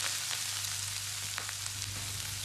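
Onions and green chillies fry with black cumin in hot oil in a pan, a steady close sizzle with faint crackles and a constant low hum underneath, no voices.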